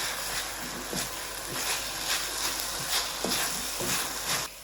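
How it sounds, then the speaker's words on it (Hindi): A spice mixture being fried and stirred in a pan over high heat, with a steady broadband sizzle and periodic stirring scrapes roughly every half second throughout. "बस इसको 1 मिनट हमने भूनना है,"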